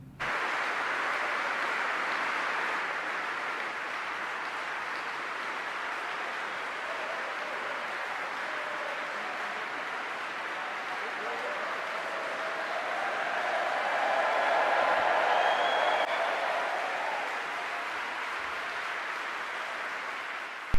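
A sustained ovation for Zelensky fills the British Parliament with a dense, even roar of clapping from a large gathering. The applause runs unbroken for about twenty seconds and swells slightly toward the latter part.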